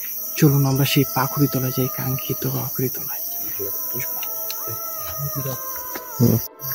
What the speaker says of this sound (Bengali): কোনো শব্দ নেই, শুধু ঝিঝি পোকার ডাক